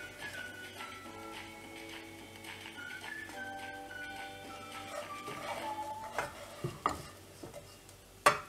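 Vaala karuvadu, dried fish, frying in a pan over a low flame, with a soft steady sizzle and stirring clatter. Scrapes and knocks grow louder toward the end, and no one speaks.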